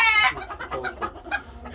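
Chickens on a farm cluck in a quick run of short, close calls after a brief louder squawk, heard alone without talk.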